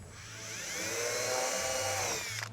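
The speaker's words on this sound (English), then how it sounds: "I'm gonna start out with a 1/4-inch bit." Power drill boring holes with a quarter-inch bit while fitting a tailgate table to a 2018+ Jeep Wrangler JL, a steady close whine that rises slightly in pitch and holds for about two seconds before winding down.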